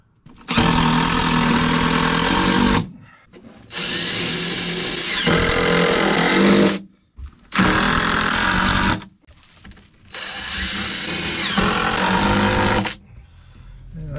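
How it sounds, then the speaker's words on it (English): Power drill driving screws into a floor beam during repair work, in four long loud whirring bursts separated by short pauses. "now I'll just put some screws in it."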